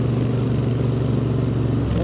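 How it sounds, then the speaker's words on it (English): A Royal Enfield Interceptor 650 motorcycle engine idles with a steady, low, throbbing rumble through the exhaust pipes, close and continuous throughout. "Sounds like a proper motorbike."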